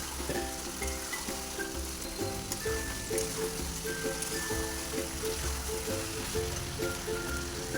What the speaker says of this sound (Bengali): দেখো এটা ভালো করে কষে নিচ্ছি